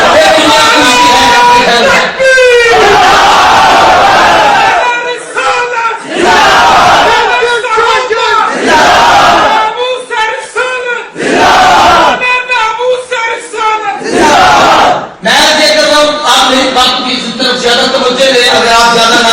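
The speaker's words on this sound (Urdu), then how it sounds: "اگر آپ زیادہ نعرے لگائیں گے تو تکلیف تھوڑی ہوگی" A large crowd at a religious gathering shouts slogans in loud, rhythmic bursts, with repeated call-and-response chanting separated by short pauses and voices ringing through a sound system.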